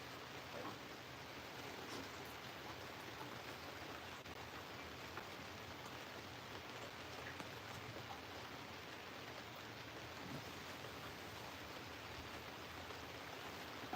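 Steady rain falls on Lake Lanier during a fishing trip, a soft, even hiss of drops on water and surfaces heard at low level, continuous throughout with no talking.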